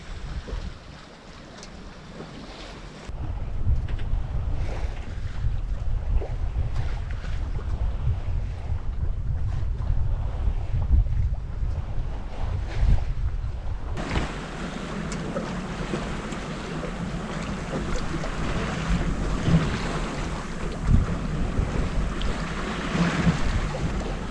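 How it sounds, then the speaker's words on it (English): A sailboat runs through the dark at night in steady wind, with continuous wind rush and water noise against the hull; the sound shifts and grows brighter partway through, with no voices. "So, this is sailing at night."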